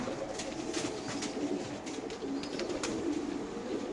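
Pigeons coo softly and repeatedly throughout at a pigeon farm keeping racer pigeons. The cooing is layered and continuous over a busy, rustling background, with no speech.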